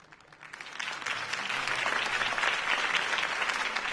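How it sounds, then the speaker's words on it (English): A video game crowd in Batman: The Telltale Series claps and applauds steadily, the clapping swelling slightly and holding at a full, dense level throughout. "could have heard that applause"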